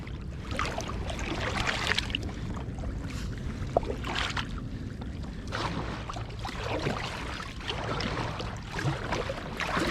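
A kayak paddles across open water on the Firth of Forth, with repeated paddle strokes splashing and swishing over constant wind and water wash, fairly close and with no talking.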